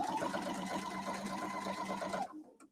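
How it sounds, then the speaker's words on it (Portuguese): A sewing machine stitches a parallel seam on matelassé quilting at a moderate speed, running as a close, steady mechanical whir for about two seconds before it stops. "olha a velocidade da máquina, não é muito e nem é pouco"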